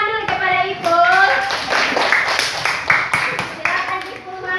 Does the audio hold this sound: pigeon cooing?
no